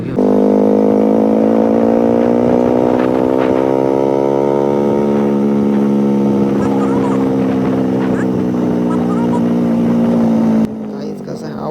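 A KTM RC motorcycle fitted with an Akrapovič exhaust holds a loud, sustained rev close by, the engine note rising slightly and settling into a steady drone before cutting off abruptly near the end.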